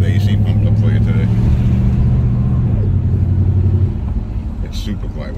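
A 1977 AMC Matador Barcelona II with a 360 V8 idling, heard from inside as a steady low engine hum that drops slightly near the end, with people talking over it.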